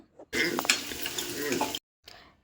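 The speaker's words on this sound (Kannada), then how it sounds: "ಕಡಲೆಬೀಜ ಮತ್ತು ಕಡಲೆಬೇಳೆನೂ ಹಾಕ್ಕೊಂಡು ನಾನಿಲ್ಲಿ ಫ್ರೈ ಮಾಡಿ ಫ್ರೈ ಮಾಡ್ಕೊತಾ ಇದ್ದೀನಿ" Peanuts and chana dal with garlic, curry leaves, green chili and onion are stirred and fried in a pan, a close sizzling scrape with utensil clinks that stops abruptly, then a softer stir after a pause.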